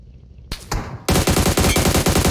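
Automatic gunfire in the mobile video game PUBG Mobile: a couple of single shots, then a rapid, loud burst of close rifle fire rattling on steadily.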